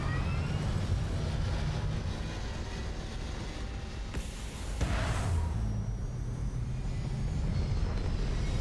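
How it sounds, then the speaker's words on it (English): Spaceship thrusters fire in Starfield as a steady, loud, broad roar with deep rumble, holding for several seconds with a brief airy surge midway. "All thrusters firing."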